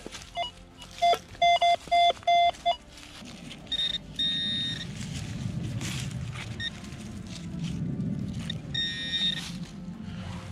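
Metal detector tones sound over a buried object in a field, a series of short clear beeps up close followed by longer warbling tones against a low background rumble.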